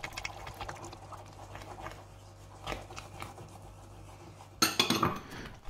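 Spoon stirring pureed apples with starch in a bowl for an apple Linzer torte, soft scraping and quiet clinks at first, then a loud burst of vigorous clattering against the bowl near the end.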